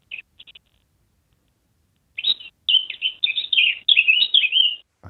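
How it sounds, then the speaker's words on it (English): A songbird in a garden tree gives a few short, faint chirps, then after a pause breaks into a bright, sustained warbling phrase of quick, varied notes, close and alone with no talk. "It's either a blackcap or a song thrush."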